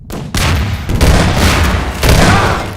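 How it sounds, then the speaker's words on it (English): Rapid gunfire and explosive booms from RPG and shotgun fire in a Half-Life 2 Deathmatch 1-on-1 match, loud and continuous with several dense bursts across the span. "now if he can connect with this RPG and a"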